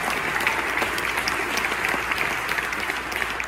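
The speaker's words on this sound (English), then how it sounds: "Yeah, you can clap for that." A concert audience at a live folk show in Winnipeg claps and cheers in a dense, steady burst of applause filling the room throughout.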